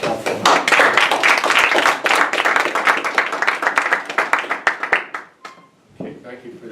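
An audience in a lecture room at Bard College Berlin bursts into brisk, close clapping that thins out and stops after about five seconds, leaving a few stray claps and a voice.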